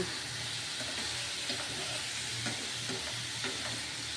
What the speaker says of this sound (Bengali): এখন ডিমটাকেও আমি ভালোভাবে কষিয়ে নেব